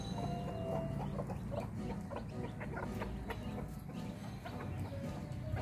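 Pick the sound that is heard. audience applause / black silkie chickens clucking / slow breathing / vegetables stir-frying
black silkie chickens clucking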